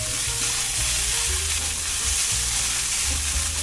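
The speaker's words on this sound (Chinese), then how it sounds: "锅内放入适量的油，把豆包放进来，大约拌炒一下。" Tofu skin stir-frying in hot oil in a pan, a loud, dense and continuous sizzle close up with low rumbling stirring underneath, no voices.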